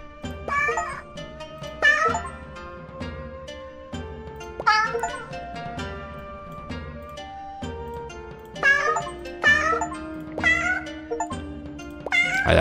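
Repeated cartoonish cat meows from the video game 100 Asian Cats, high and chirpy, overlapping a bouncy synthetic music bed throughout.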